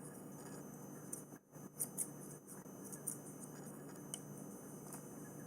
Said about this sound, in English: Now I'm going to take my scissors and just go around and trim